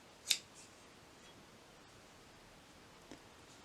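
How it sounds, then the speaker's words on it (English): A single crisp snip of scissors cutting yarn while crocheting a colorful square, brief and close, followed by a faint tick and quiet room hiss. "And then cut the yarn."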